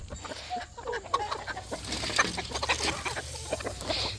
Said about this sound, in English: You get out of the way, chickens.